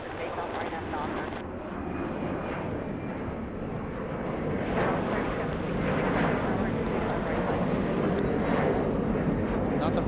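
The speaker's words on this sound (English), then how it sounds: "looks like we have an MD-87 taking off from San Bernardino as well" An MD-87 airliner takes off from San Bernardino, its jet engines giving a broad, steady roar that builds slightly over ten seconds, with radio-style talk heard faintly in the mix.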